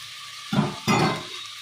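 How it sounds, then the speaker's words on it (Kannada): Fresh green peas tipped into a hot pan for vangi bath, giving two short bursts of sizzling and stirring against a quiet kitchen background. "ಇದನ್ನು ಇದರಲ್ಲಿ ಫ್ರೈ ಮಾಡ್ಕೊಳ್ಳೋಣ"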